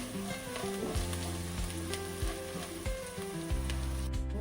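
Ground turmeric, chili, black pepper and garam masala powders sizzle and fry in a hot pan for tomato rice, a steady close crackle with occasional stirring scrapes.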